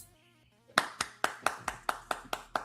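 A few people clap in a brief round of applause during a political discussion show. It comes as about nine distinct, evenly spaced claps, close and clear, following a moment of quiet hum.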